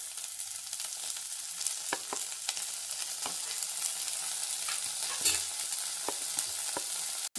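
Cabbage and potato sautéing with onion in a hot pan, a steady close sizzle with occasional stirring clinks and scrapes throughout, no talking.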